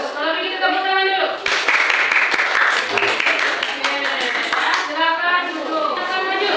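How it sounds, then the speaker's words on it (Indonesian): A classroom group claps for students after they present an infographic, a dense patter of hand claps swelling mid-clip under continuous nearby talk. "Kalau begitu tepuk tangan dulu."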